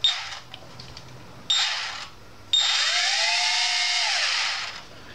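Motors of a JJRC H16 Tarantula X6 quadcopter spin up in three close, loud bursts, the last a sustained whine that rises and then falls away with no talk.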